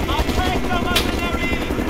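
Helicopter in the Mercenaries 2 video game, a steady thumping rotor drone close by, with a brief sharp burst partway through and soldiers' voices faintly mixed in.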